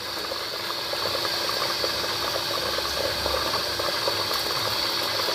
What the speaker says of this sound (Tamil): கறியும் வெந்துருச்சு, கொதிக்க ஆரம்பிச்சிருச்சு.